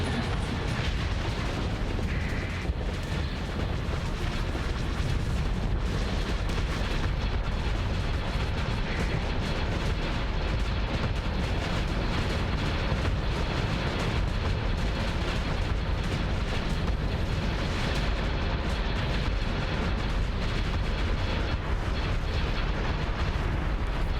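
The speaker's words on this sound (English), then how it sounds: "Look at all the missiles go." Missiles launching in a Starsector space battle, a loud, dense and continuous rumble of explosive bursts and booms that pile up without pause.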